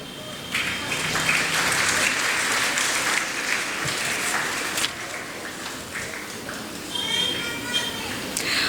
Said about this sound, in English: Audience, please keep applauding